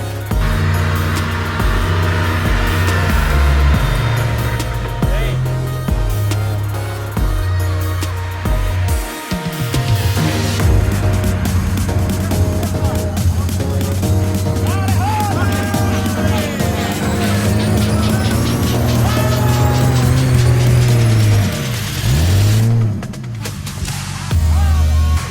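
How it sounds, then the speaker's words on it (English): A Sprintex-supercharged 4x4 strains up a muddy slope on an overlanding trip in Honduras, its engine roaring steadily and loud throughout, with revs rising and dipping as the tires churn. "Gets in a bind, supercharger does its thing, no problem getting up that mud."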